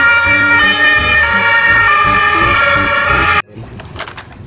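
A loud ambulance siren wails steadily with stacked, bright tones, then cuts off abruptly, leaving faint clicks and rustling.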